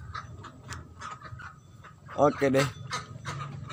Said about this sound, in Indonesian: Tuh bebeknya.